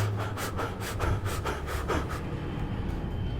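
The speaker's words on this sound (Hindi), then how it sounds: "तो रनिंग के समय वह देखता है क्या कि उसका ब्रीदिंग रेट जो है वो काफ़ी हाई हो जाता है, मतलब वह हाँफने लगता है।" Rapid, rhythmic panting from a person out of breath after running, quick breaths repeating steadily and close up, gradually easing and growing fainter toward the end, with no talking.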